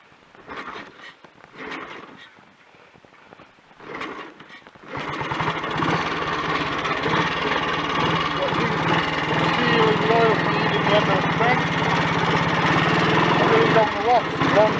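After a few seconds of muffled voice and rustling, a Royal Enfield Bullet 350 G2 with oil leaks and new oil pumps starts up and keeps running with a steady, loud, rough engine drone, with talking over it.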